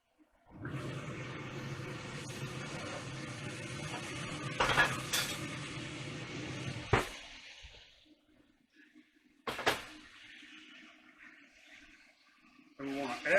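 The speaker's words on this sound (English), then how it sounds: "We're going to get our Dutch oven out." A Dutch oven for beef stew is pulled out with metallic clanks and pot-and-lid rattles over a steady kitchen hum, punctuated by a few sharp knocks and a final clatter.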